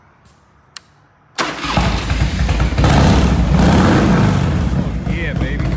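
A Harley EVO motorcycle with a newly finished exhaust pipe fires up after a short quiet moment, then settles into a loud, close, rumbling idle with revs, as a voice exclaims briefly at the start.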